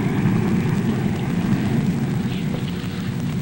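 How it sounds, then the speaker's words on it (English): An F-86E jet fighter accelerates down the runway on takeoff: a loud, steady, broadband engine roar that holds throughout, with no voices. "He's hitting his F-86E down the runway now."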